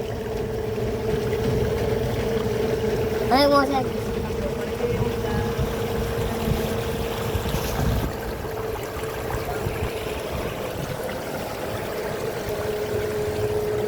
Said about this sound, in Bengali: এই যে আমরা এখন নৌকায় চড়তেছি